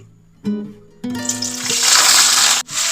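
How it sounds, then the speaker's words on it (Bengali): Onion paste with cumin and bay leaves hits hot mustard oil and breaks into a loud, sudden hissing sizzle that builds and holds after a few brief clinks, then cuts off abruptly near the end. "পেঁয়াজটাকে ভেজে নিচ্ছি"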